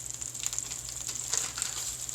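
Onions and beef frying in a pan give off a steady, bright hiss and sizzle with soft crackles throughout, close and moderately quiet, no voices.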